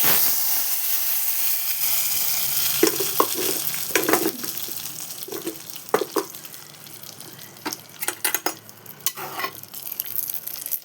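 Steady, loud sizzling as hot oil tempering with dried red chilies is poured into a buttermilk and taro curry, with a few sharp clinks and stirring knocks scattered across it.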